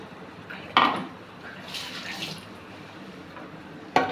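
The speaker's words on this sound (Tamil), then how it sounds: "ஒரு நெல்லிக்காய் சைஸ் புளி கரைச்சி வச்சிருக்கேன் ஃப்ரெண்ட்ஸ். இப்போ அதை வந்து இதில் ஊற்றிக்கலாம்." Tamarind water poured into a pan of eggplant thokku makes a soft, brief liquid splash and trickle, with a clank of a vessel against the pan at the start and another at the end.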